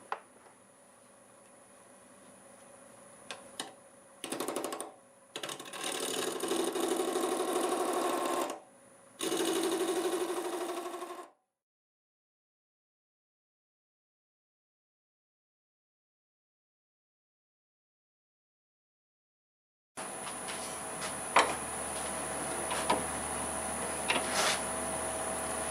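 Wood lathe spinning at 750 RPM while a 1/2 inch bowl gouge cuts twisted tangent stave segments, giving bursts of steady, fairly loud cutting noise in the first half, then silence, then a steady machine hum with a few clicks.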